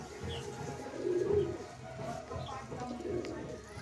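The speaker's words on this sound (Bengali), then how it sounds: "আজকে সকালে জাস্ট ভিডিওটা বানাতে বানাতে দেখলাম কি হ্যাঁ, পাখিটা আজকে খাবার খাচ্ছে।" A pigeon cooing softly while eating, low rolling coos rising and falling in two faint phrases over quiet background noise, with a few distant chirps.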